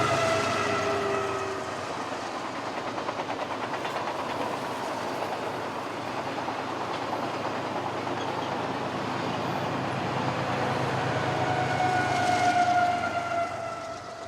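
A train rolls past near Prado Dam in Southern California, its steady rumble and wheel clatter continuing throughout, with several long horn blasts sounding at the start and again near the end.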